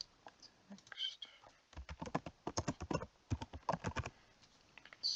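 Bursts of rapid typing on a computer keyboard, close and quiet, with clusters of crisp key clicks separated by short pauses and a brief lull at the start.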